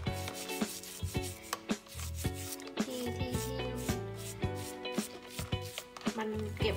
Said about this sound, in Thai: ที่มันเก็บไว้นานแล้วมันดำมากเลยนะคะนี่ก็เอามาขัดนะคะ